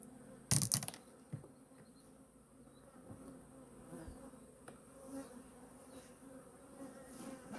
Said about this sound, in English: If that's a lot of bees